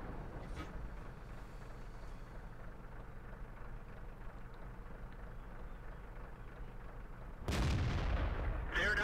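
Tank gunfire in the video game World of Tanks, with a faint rumbling engine bed, an early muffled shot, and a sudden loud blast near the end followed by another burst.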